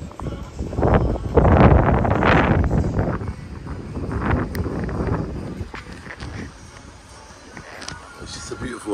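Wind blowing outdoors at a beach hotel in Sunny Beach, Bulgaria, gusting and rumbling against the microphone, strongest early on and easing later, with a voice partly heard over it.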